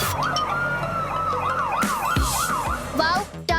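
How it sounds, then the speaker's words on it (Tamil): A fire engine siren wails in a steady rising-and-falling pattern, loud and close, with clattering noises and a brief voice near the end. "அது ஒரு தீயணைப்பு வாகனம்."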